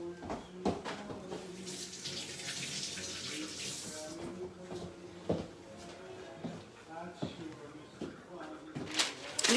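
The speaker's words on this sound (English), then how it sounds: "Wash your hands." A kitchen tap runs while hands are washed at a sink, a steady broad rush of water over several seconds with clattering and movement noises around it.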